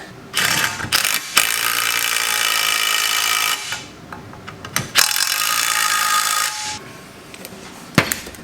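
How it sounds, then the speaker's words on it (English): A tool tightens bolts on a transmission mount in long, loud bursts of rapid clicking and whirring, broken by short pauses and a few metallic knocks, close up with no talking. "we'll get this thing bolted up to the transmission"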